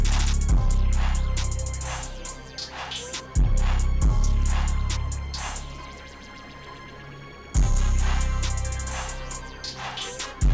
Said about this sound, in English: the full beat sounds like this.